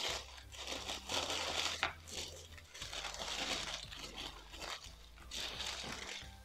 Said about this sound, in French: donc toujours le petit papier de soie.